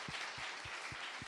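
Church audience applause at a community talk event, a continuous wash of clapping with a steady thumping beat underneath roughly every quarter second.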